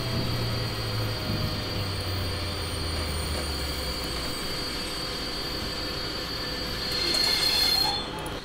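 Train wheels squeal steadily against the rails under a constant rolling rumble as a train brakes in Train Simulator 2018, with the screech briefly swelling louder near the end.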